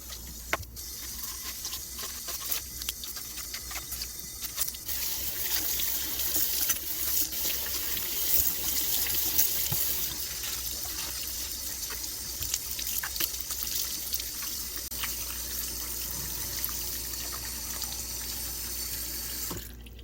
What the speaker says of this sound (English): So we will go ahead and get started with scrubbing down these shoes.